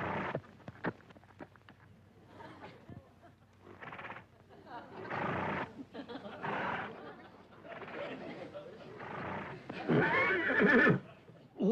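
A horse whinnies and snorts in short bursts between pauses, close and fairly loud, with a voice talking in between.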